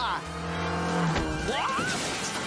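A red car in a cartoon speeds in with a revving engine and squealing tires, loud and close, heard alongside voices talking.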